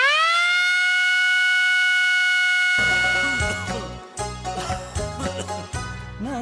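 A warning siren for an earthquake drill rises and holds a steady wailing tone, then gives way to a stretch of rhythmic music; no voices are heard.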